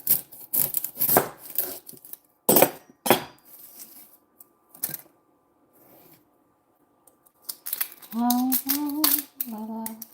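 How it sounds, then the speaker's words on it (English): Knife strikes cut through onion on a cutting board with a run of sharp, close chops, a pause, then more taps, while someone talks briefly near the end. "If I cut any more onion away,"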